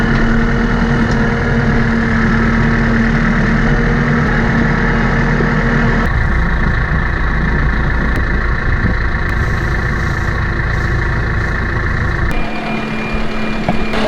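John Deere tractor engine running at a steady, loud idle-like drone, close by and uninterrupted, with a brief shift in tone near the end and no talking.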